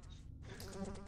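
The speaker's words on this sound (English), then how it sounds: "Countless flies immediately flew from the overturned bucket and began swarming." A swarm of flies buzzes in Corpse Party: Book of Shadows, a faint, steady insect drone running unbroken through the short moment with no speech.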